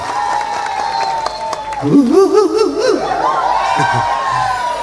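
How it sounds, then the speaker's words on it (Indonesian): An audience at a Maulid Nabi religious event with music claps in steady applause, while a voice rises and falls over the clapping through the middle. "tepuk tangannya mana?"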